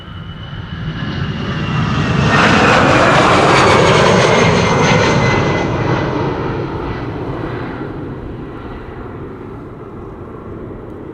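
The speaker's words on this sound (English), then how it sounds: "Croatia Airlines A319 going to Zagreb, flight 451." A 25-year-old Croatia Airlines Airbus A319 airliner passes at Amsterdam Schiphol Airport on a windy day. Its engine roar swells to a loud peak, then gradually recedes and fades.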